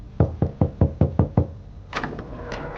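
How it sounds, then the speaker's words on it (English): Seven firm, evenly spaced knocks land on a door, close and loud, followed by a faint creak and rustle as the sound settles. "He gave another knock and then turned the door handle."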